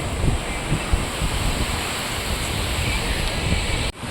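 Sea surf rolls onto Pattaya beach in the rain, a constant loud wash of waves mixed with heavy wind buffeting the microphone, cutting off abruptly at the end.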